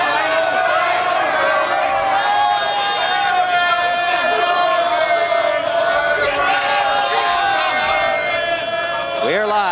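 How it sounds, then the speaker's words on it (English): Lively, knowledgeable fight crowd at a championship boxing bout in the Caesars Palace Tennis Pavilion, Las Vegas, a steady dense roar of chatter and shouting throughout, with a ringside announcer's voice running over it. "A very knowledgeable and lively fight crowd watching this championship bout"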